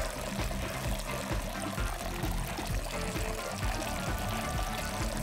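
Liquid pours steadily in the Astro Bot video game, a dense, continuous rushing gush with low rumbling underneath, loud and unbroken throughout with no voices.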